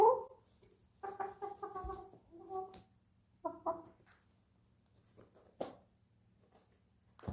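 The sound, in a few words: pet chickens clucking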